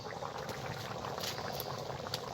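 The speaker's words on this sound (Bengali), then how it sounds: "তরকারির জল ফুটে উঠেছে" Curry water for aloo dum comes to a boil in a pot with potatoes and spices, giving a steady, dense bubbling hiss that carries on without a break.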